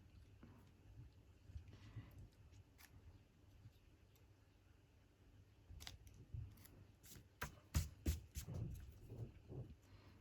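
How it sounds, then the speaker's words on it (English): Scissors cut through paper for an envelope craft project, close up. Crisp, irregular snips grow more frequent and louder toward the end over quiet room tone. "Might have to use my scissors."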